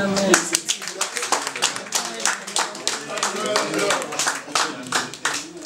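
Guests at a Congolese customary wedding in Ivry-sur-Seine give the aunts lively, continuous applause, dense rhythmic claps filling the room with a voice speaking faintly underneath.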